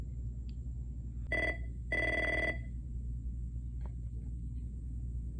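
A telephone at a car rental desk rings unanswered, two short bursts of electronic ringing over a constant low rumble of background noise.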